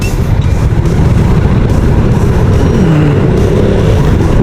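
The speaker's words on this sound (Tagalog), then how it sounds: "Traffic" Dense street traffic surrounds the listener: a steady, loud wash of car and engine noise with passing vehicles blending together and no clear gaps.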